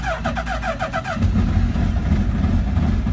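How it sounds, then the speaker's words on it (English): A Radical SR3 RSX race car engine is fired up: a starter motor whirs in rapid pulses for about a second, then the engine catches into a loud, steady, rumbling idle close by. "you press and hold to fire the car and get it started"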